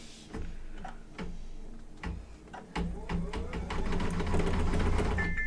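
An embroidery machine sews light-colored satin stitches in a fast, steady mechanical ticking rhythm, close by, with a short pause before the stitching picks up again and grows louder.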